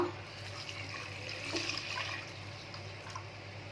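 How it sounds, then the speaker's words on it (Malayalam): Coconut milk pours into a clay pot over crushed shallots and ginger for a fish curry, producing a soft, steady liquid gush and trickle heard close and alone. "അതിനുശേഷം തേങ്ങാപ്പാൽ ഒഴിക്കുക."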